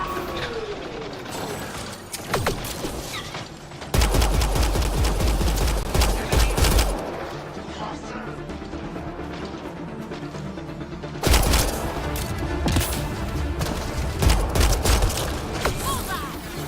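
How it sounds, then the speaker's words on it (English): Heavy weapons gunfire in the video game Mass Effect Andromeda, with sustained automatic bursts and rattling mechanical clatter, loud and dense, surging in two heavier volleys amid ongoing battle noise. "Pathfinder, I detect heavy weapons fire nearby."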